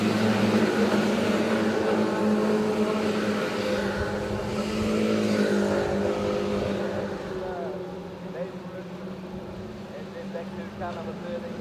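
Race cars roar down the front straight, a continuous loud drone of engines that fades slightly toward the end, with a commentator talking over it.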